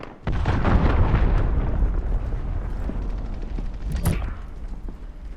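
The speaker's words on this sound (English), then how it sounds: "Allied cruise missile away" Heavy explosions from a cruise missile strike in the Call of Duty 2019 shooter, a dense, loud rumbling barrage of blasts lasting several seconds with another sharp burst near the end.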